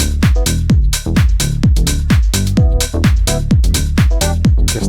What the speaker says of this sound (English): Now I've got this Magic Switch by Baby Audio, another free plugin. It's a chorus basically.